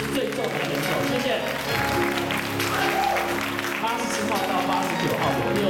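Audience applause and crowd noise welcoming the heaviest contestant at a bodybuilding competition, the over-90 kg class, a continuous loud wash of clapping mixed with an announcer's voice speaking over it.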